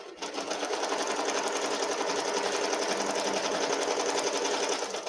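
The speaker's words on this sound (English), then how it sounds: "Now it's going to stitch the placement." An embroidery machine stitches a placement line on a towel with a steady, rapid needle buzz that runs evenly for about five seconds, close and alone.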